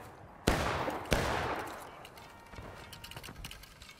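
An infantry company fires rifle volleys in a multiplayer video game battle, two loud ragged cracks close together followed by a rolling echo and scattered fainter shots and clatter.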